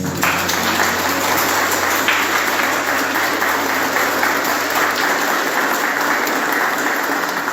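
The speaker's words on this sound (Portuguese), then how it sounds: "Vamos dar uma salva de palmas para as mães." A crowd applauds at a Mother's Day gathering, loud sustained clapping from many hands that continues without pause and fades slightly near the end.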